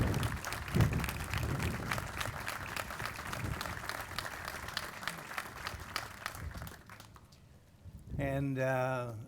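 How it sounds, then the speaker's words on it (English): Audience applause for family members standing at a recreation center dedication ceremony, a sustained crowd clapping for about eight seconds before fading, then a voice begins speaking at the end. "let's give them a round of applause and recognize them"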